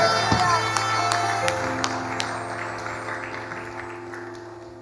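A church congregation bursts into applause at a wedding service, the clapping strongest at the start and gradually thinning and fading over a few seconds, with a sustained low tone and some voices mixed in.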